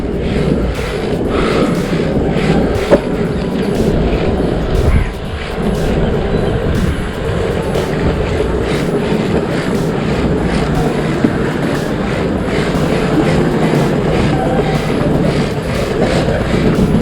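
Oxelo Carve 540 Bird longboard wheels rumble steadily over a sandy road, a loud continuous rolling roar with gritty texture and occasional bumps, no voices over it.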